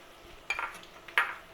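A spoon stirs minced beef with onions and ginger-garlic paste on a tawa, giving two distinct metallic scrapes and clinks against the pan over a faint background hiss.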